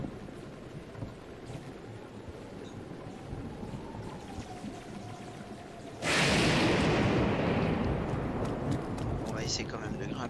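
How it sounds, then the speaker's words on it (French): A storm in The Legend of Zelda: Breath of the Wild, in southern Akkala, begins as steady wind and rain hiss, then swells abruptly into a loud, close, broadband roar of gusting wind and downpour. "Et on est au début de la tempête."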